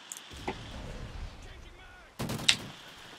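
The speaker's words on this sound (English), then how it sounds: "Who the hell is shooting?" Gunfire in the video game Call of Duty: Ghosts, Cranked mode, with a distant boom, then a sudden louder burst of shots and a sharp crack over game ambience.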